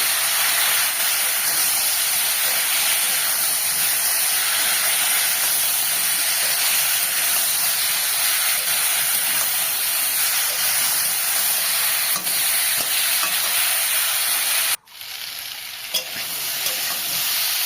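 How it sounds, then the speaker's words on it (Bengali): Sajne data (drumstick) curry sautéing in a pan after a little water is added, giving a loud, continuous close sizzle and hiss that drops briefly near the end and then resumes more softly. "অল্প করে জল দিয়ে আর একটু কষিয়ে নেব।"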